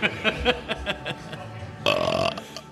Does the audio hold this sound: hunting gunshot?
no